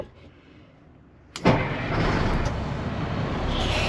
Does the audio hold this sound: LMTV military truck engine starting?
yes